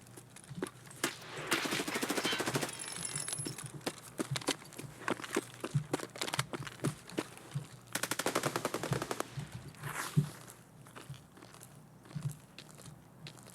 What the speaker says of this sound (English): Isn't there gunfire over here?